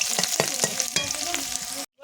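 Garlic cloves frying in hot mustard oil with dried red chillies, a loud dense sizzle with rhythmic stirring scrapes, then cutting off abruptly into silence just before the end.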